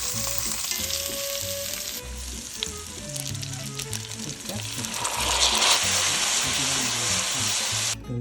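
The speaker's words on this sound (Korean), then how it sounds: "불을 약불로 줄이고 바질찹의 한 절반 정도만 약간 약한 불에서 바질 향을 기름에 배게 해준다는 느낌으로" Garlic and chopped basil fry over low heat in oil in a pan, giving a continuous soft sizzle with small crackles and some stirring clatter, close and steady throughout, with no voices.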